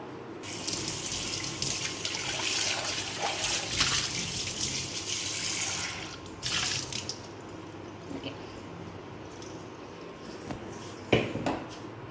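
Tap water runs steadily into a sink while a pot used for fish curry is rinsed, a continuous splashing stream broken by a short pause and brief clatters near the end.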